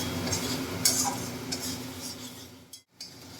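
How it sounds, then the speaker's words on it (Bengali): Green chillies stirred and sautéed in a pan for tarka dal, with steady low frying texture, a few spoon-against-pan scrapes and clinks close by, and a brief pause near the end. "দিয়ে এটাকে একটু কষাতে হবে"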